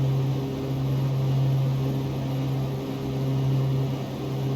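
Piper Cheyenne II turboprop engines drone steadily inside the X-Plane 11 flight simulator, a loud continuous hum with a strong low tone and a high whine, unchanging throughout and with no talk.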